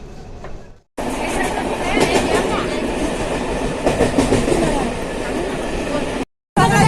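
A train running on rail tracks at a riverside ghat, a loud steady rumble with rhythmic clickety-clack from the wheels lasting several seconds, with voices in the background.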